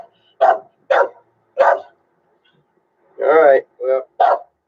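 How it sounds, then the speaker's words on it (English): A dog barks loudly and close by in six sharp bursts, three evenly spaced, then a pause, then three more in quick succession, with no other voices. "fucking dog"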